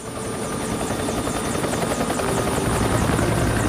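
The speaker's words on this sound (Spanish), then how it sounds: "Hay que traer helicópteros" A helicopter flies steadily overhead above the Florida Everglades swamps, its rotor and engine making a loud, continuous thrumming drone with rhythmic blade chop. It grows slightly louder toward the end and nobody speaks over it.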